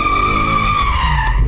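A car's tires squeal loudly while it slides through a curve: a steady, high-pitched screech held for about a second and a half, close and unbroken, with engine rumble underneath.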